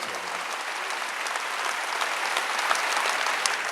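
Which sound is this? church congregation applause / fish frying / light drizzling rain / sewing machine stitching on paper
church congregation applause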